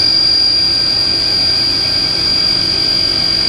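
Haas VF2B CNC vertical machining center with its spindle spun up to 6,500 RPM, giving a loud, steady high-pitched whine over a constant mechanical drone, unbroken and close by.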